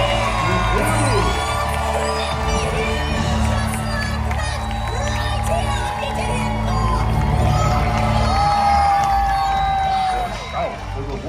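Audience at a Disney villains stage show screaming, whooping and cheering loudly and continuously, dense crowd noise with voices throughout.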